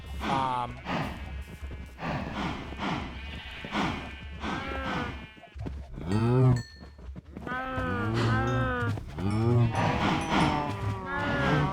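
Cows in the Minecraft video game moo repeatedly around an automatic cow farm. Several low, drawn-out calls overlap and follow one another at close range, with brief gaps between bursts.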